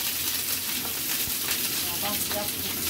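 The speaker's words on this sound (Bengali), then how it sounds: "কড়াইতে তেল দেবার পর আমি মাছগুলো ভেজে নেব।" Roe-filled tangra fish, salted and turmeric-coated, frying in oil in a wok, giving a dense steady sizzle with occasional sharper pops and spatters, close and continuous.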